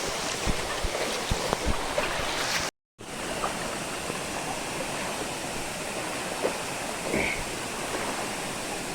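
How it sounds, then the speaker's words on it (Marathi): River water rushes in a steady, broadband wash on a hidden waterfall trail near Panval, Ratnagiri, as someone wades upstream, with a few splashes and one brief dropout; no speech. "नदीतून वाट काढत काढत वरती निघालेलो आहे"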